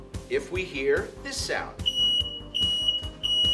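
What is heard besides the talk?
smoke detector alarm beeping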